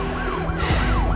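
A wailing police siren in a Romanian TV drama scene sweeps up and down in repeated rising-and-falling cycles, loud and steady across the whole moment with no talking over it.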